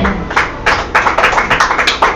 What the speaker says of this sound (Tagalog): Yung mga pumalakpak ng malakas